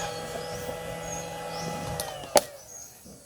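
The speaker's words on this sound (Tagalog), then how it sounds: "Tunog yun sa blower ka-farmer" An electric blower in an electric fishing setup runs with a steady mechanical whine and hum, fairly quiet and continuous, broken by one sharp knock near the end.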